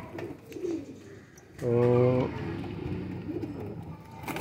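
Qasuri pigeons coo in a short, loud, harmonic burst close by, with a voice talking faintly before and after.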